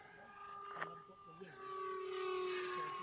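Twin brushed electric motors on a homemade RC glider drone steadily in flight, a sustained tonal whine that holds its pitch and swells louder in the latter half, with a brief sharp blip early on.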